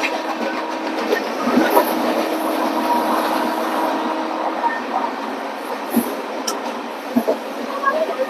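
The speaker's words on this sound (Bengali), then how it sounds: "ট্রেন এই মুহূর্তে আমাদের দক্ষিণেশ্বর স্টেশনে ঢুকে গেছে।" Padatik Express (12377, Sealdah to NJP) rolling through Dakshineswar station without stopping, a steady close rumble of rail carriages with occasional clicks and brief squeals, heard from inside a general coach.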